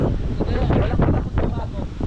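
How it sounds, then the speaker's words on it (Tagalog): Strong wind gusts across a beach at night, a loud, rumbling roar of microphone buffeting that rises and falls continuously for about two seconds. "Simula nung dumating kayo, ganyan na yung hangin."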